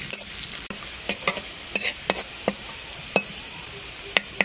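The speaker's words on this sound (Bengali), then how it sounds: "আমি সয়াবিন তেল দিব পরিমাণ মতো, এরপরে কিছু পেঁয়াজ কুচি দিব।" Chopped onions fry in soybean oil while a utensil stirs them, destined for a Bengali okra and lentil dal. A steady hiss runs underneath, broken by a dozen or so sharp spoon clicks and scrapes at irregular intervals, close and clear with no talking.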